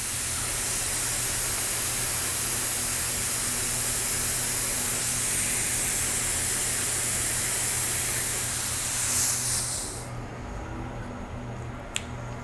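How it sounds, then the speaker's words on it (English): Activator spray misted onto hydro dip film floating on water in a dip tank, ahead of dipping a gunstock: a steady, close, loud hiss lasting about ten seconds, then cutting off, with a brief tap afterward. "then we'll spray our activator on it, get everything nice and glassed out"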